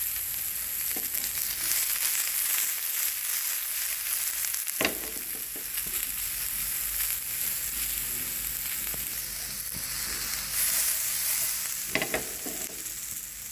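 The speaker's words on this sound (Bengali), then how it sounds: "ফায়ারটাকে একটু স্লো করে দেবো, এভাবে শ্যালো ফ্রাই করে নেব।" Onions shallow frying in oil in a pan for paneer tawa masala, a steady close sizzle with a few louder crackles and stirring scrapes along the way, no talking.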